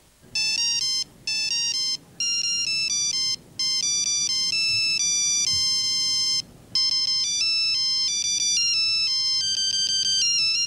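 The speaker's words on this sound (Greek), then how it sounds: "Ο χαρακτηριστικός ήχος εισερχομένων κλήσεων" A bright electronic mobile ringtone playing a repeating melody, loud and close, with short pauses between phrases.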